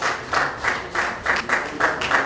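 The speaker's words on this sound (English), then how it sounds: "A round of applause for Group 5." Audience applauding a presenting student group after their talk on the roles of the private and public sectors in freedom of religion, in a series of short swelling bursts of clapping.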